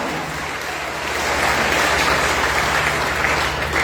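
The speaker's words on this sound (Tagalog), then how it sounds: "Wala ba may mga palakpak sa Ginoo," A church congregation at a Sunday service claps together in a thick, washy roar that swells louder after the first second and holds steady, with a low hum underneath.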